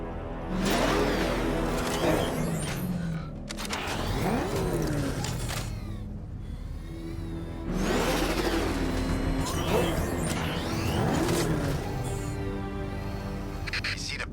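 A car engine in Batman: Arkham Knight revs and roars in repeated surges, rising and falling several times, loud and close.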